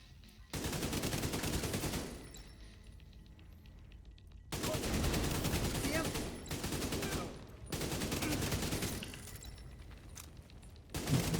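Video game weapon fire in long, loud sustained bursts of rapid automatic shots, separated by short quieter gaps, with a voice talking faintly underneath.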